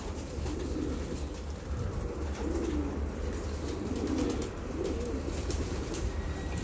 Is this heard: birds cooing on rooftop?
yes